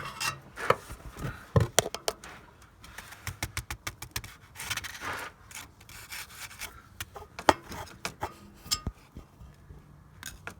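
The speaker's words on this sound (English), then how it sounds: "I'll trace it with this big screwdriver." A big screwdriver is scraped and rubbed along a cable in irregular bursts of scratching and tapping, close and fairly quiet with no talking.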